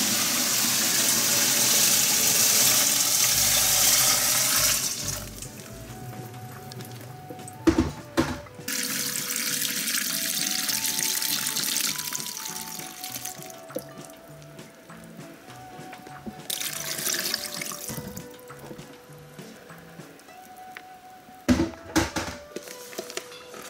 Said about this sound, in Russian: сейчас заливаем водой его, ну вот до такого уровня